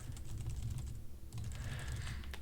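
Quick, steady typing on a computer keyboard, a close, fairly quiet run of light key clicks with no voices.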